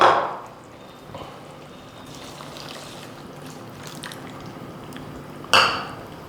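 Liquid pours and trickles into a pot of soaked rice for a one-pot tomato rice, a soft steady stream beneath a faint background, framed by a clink of utensils at the start and a sharp metallic knock near the end.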